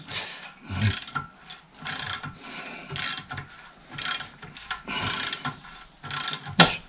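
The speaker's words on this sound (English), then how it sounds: "This ratchet thing's quite good." A hand ratchet tightens the sump bolts on a tractor engine in repeated bursts of rapid clicking, each lasting about half a second to a second and separated by short pauses, close and fairly loud with no talking.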